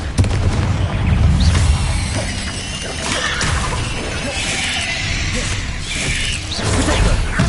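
Spell blasts such as Bombarda and Confringo in Hogwarts Legacy, a dense run of booming, crashing impacts with shattering debris over a steady, loud wash of combat noise.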